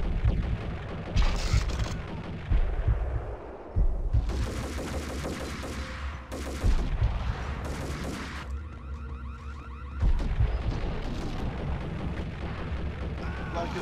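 Grenade explosions and gunfire in the Max Payne video game come as loud bursts with bangs and rumbling, spread through the clip in several separate blasts.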